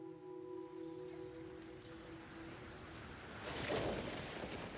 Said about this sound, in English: it's coming down like cats and dogs out there